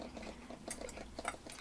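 A spoon stirs semolina and milk in a pot as it comes to a boil, soft repeated scraping and light metal clinks at an irregular pace, quiet and close.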